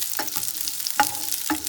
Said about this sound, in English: And we're going to quickly stir fry this for a few seconds,